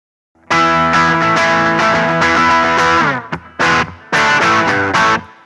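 An electric guitar played through an Orange Crush 20RT amp with reverb and some distortion rings out in loud sustained chords, broken by a brief pause and a couple of short stabs before more chords decay into a reverberant tail.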